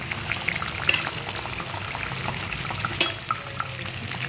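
Salt and spices are mixed into a cooking pan for a bottle gourd kofta curry, giving a soft continuous stir and faint sizzle with two sharp scrapes of a spoon against the pan, close by and without talk.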